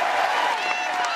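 A crowd at a Democratic speech applauds enthusiastically, a dense, continuous roar of clapping and cheering throughout.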